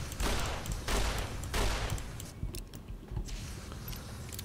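Gunfire from the Fallout: New Vegas Big MT area, a robot-killing gun firing in rapid bursts, several loud close volleys with brief gaps between them.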